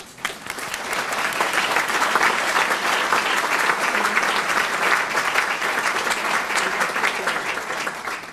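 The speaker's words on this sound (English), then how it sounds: "Would all the community council members please stand, and we'll give you a round of applause." Dense, steady applause from an audience at a leadership prayer breakfast, building quickly and holding at full strength with no talk over it.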